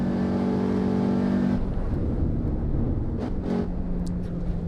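A race car in the Assetto Corsa EVO driving game revs loudly with a high, steady engine whine, then the pitch drops as the car slows, with short rising revs following.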